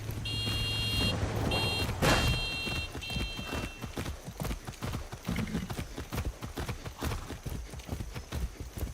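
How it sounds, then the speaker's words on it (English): Horse hooves gallop in the video game Far Cry 6, a steady rhythmic run of hoofbeats that continues throughout, with high electronic beeps early on and no talking. "for me, traveling on a horse is a lot smoother than traveling with a car"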